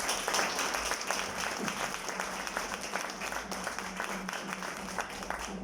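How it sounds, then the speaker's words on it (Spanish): An audience applauds writer and poet Juanita Vázquez, a founder, at a gathering on Nezahualcóyotl and Mexico's Indigenous languages; dense, steady clapping fills the room throughout at a moderate level. "Un aplauso para Juanita."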